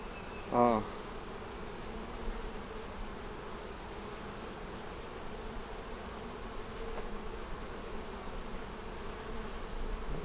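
Honey bees buzz in a faint, continuous hum at an open hive, with one loud close pass buzzing by near the start before the drone settles back.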